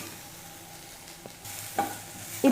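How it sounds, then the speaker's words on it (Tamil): Onions lightly sautéing in a pan for a spicy Tamil chutney, a faint low hiss with a few soft stirring scrapes and a brief clink near the end, no voices. "ரொம்ப நேரம் வதக்கணும்னு இல்லை, கொஞ்சம் லைட்டாக வதங்கினா போதும்"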